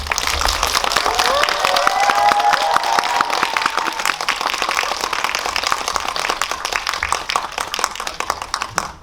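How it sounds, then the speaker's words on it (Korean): Audience clapping at a movie talk event in a Megabox Coex cinema hall, a dense steady round of applause lasting several seconds with some voices mixed in. "박수로 해주십시오."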